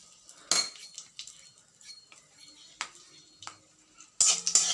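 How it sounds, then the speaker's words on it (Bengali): Utensil stirring spices tempering in hot mustard oil in a pan: scattered metallic scrapes and clinks at irregular intervals, close and moderately loud, with a louder clattering burst near the end. "ভালো করে নেড়ে ছেড়ে নেব"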